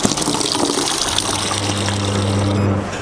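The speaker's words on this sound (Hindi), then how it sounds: "जितना अभी हमने वाटर अभी वॉश के लिए निकाला वो सब इसके अंदर डिफ्यूज कर देंगे इसको" Wash water being emptied into a hard ice cream machine, a steady close gush and pour of liquid with a low pump-like hum joining partway through, then cutting off near the end.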